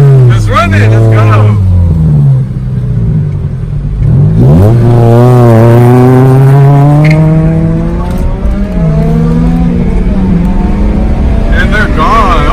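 A 2003 Acura RSX Type S engine revs hard and pulls away, pitch climbing through the gears with a VTEC surge before fading, loud and close, with people talking over it.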